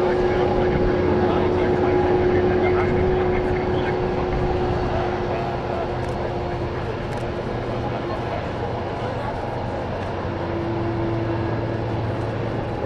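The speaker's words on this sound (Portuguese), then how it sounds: "pra focar aqui na decolagem do 747" A Boeing 747 airliner taking off, heard as a steady, broad engine roar with a droning low hum, sustained and moderately distant; a person talks over it.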